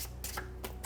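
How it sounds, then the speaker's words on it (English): Tarot cards being shuffled by hand in a few crisp riffling bursts, close and fairly quiet over a steady low hum, with no voices. "bear with me while I shuffle, and then we'll get into the reading."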